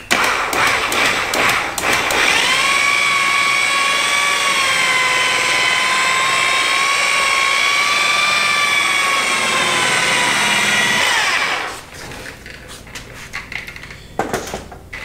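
A polisher buffs compound into fresh paint on a Civic Type R coupe at raised speed, a loud close steady high-pitched whine that holds for about ten seconds, then cuts off into quiet handling noises.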